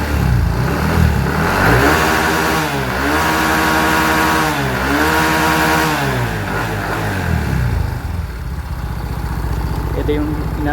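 A Yamaha Mio i 125 scooter on its stock ECU, pulley removed, revs loudly up and down in repeated rising and falling sweeps close by, then settles back toward idle.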